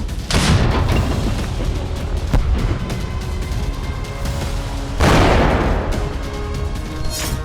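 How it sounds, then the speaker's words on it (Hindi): Artillery shelling in Sumy during the Russia-Ukraine war: loud, rumbling booms with two especially powerful blasts several seconds apart and continuous heavy rumble in between. "सुमी में आर्टिलरी से फिर जबरदस्त गोलाबारी की गई है।"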